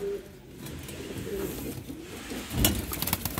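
Low, soft pigeon coos repeat over a steady background in a pigeon shop, with a brief louder rustle near the end.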